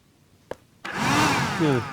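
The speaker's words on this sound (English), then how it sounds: "I'm doing this to test the suction power of the handheld vacuum" A handheld vacuum cleaner clicks, then switches on and runs loudly with a steady high whine and airy roar, its pitch shifting slightly as the suction changes.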